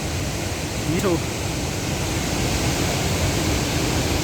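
Dhancho waterfall on the Manimahesh trek in Himachal Pradesh, a constant loud roar of falling water; a short voice cuts in near the start.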